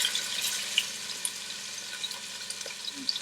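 Chicken pieces fry in hot, smoking oil in a pot, giving a steady sizzle with scattered crackles and pops close by.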